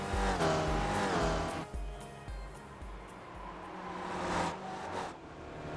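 An SRF race car in iRacing runs a lap of Lime Rock Park, its engine droning loud and close. The pitch climbs through the gears, then drops sharply as the car brakes for a corner.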